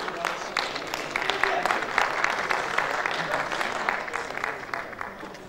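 Audience applauding after a folk dance performance at a Kars liberation celebration in Ankara, sustained dense clapping from a sizeable crowd with someone speaking into a microphone over it.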